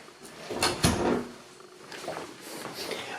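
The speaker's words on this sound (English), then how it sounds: "Let me shut this door properly." A door is pushed and shut with a couple of close wooden knocks and rattles, then quieter handling noises follow in a small room.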